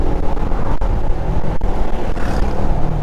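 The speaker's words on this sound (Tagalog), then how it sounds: "Nakita nyo yung tunog ng suspension ko?" Rumbling ride on a Raider 150 motorcycle over a bumpy, potholed road, the suspension thudding and knocking under heavy wind buffeting and engine drone, loud and close.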